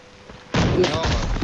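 Gunfire in the shooter Arena Breakout bursts in after a quiet half second, loud rapid shots and thuds with ringing echoes, close and sustained to the end, with a voice mixed in.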